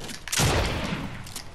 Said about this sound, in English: Are you shooting people again?